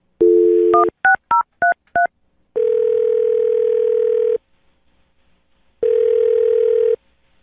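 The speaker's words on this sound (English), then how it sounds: "I'm going to dial her phone number right now" A quick run of touch-tone keypad beeps, then a long steady ringback tone, a pause, and a second ring tone, clear and alone.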